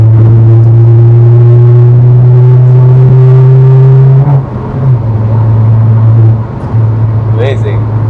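A Stage 2 tuned Honda Civic FL1 engine pulls hard with a steady, loud droning tone that rises in pitch, drops briefly at a downshift, then climbs again, heard from inside the car.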